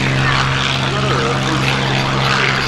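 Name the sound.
Mustang propeller aircraft rolling out at airshow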